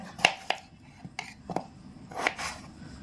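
A knife chopping peeled young jackfruit on a board, a handful of sharp, irregular chops with pauses between, close by and moderately quiet, with no voices.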